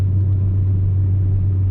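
Volkswagen Passat B4 engine pulling steadily in third gear, a loud, constant low-pitched drone and rumble heard from inside the car with no talk over it.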